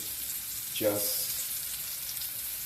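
Flour-coated JK chicken fries in a pan with a steady, moderately loud sizzle, and a brief voice cuts in over it partway through.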